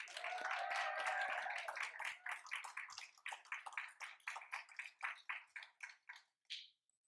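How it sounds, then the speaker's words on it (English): A small crowd claps for graduates at a Doctor of Public Health commencement and hooding ceremony, quiet applause that thins into separate, spaced claps before stopping. "let's give our graduates one more round of applause"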